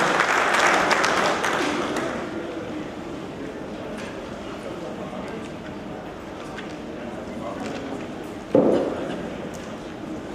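An audience at a turmeric board governing council meeting applauds to welcome the chief guest. The applause is a brief burst of clapping at the start that fades under a voice addressing the hall.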